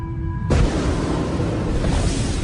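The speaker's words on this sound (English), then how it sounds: "you can hear this strong noise from the shockwave" A supernova shockwave boom rendered as a sound effect: a sudden loud broadband blast that cuts in after a brief thin tone, then a sustained rumbling roar that holds steady to the end, with no talking.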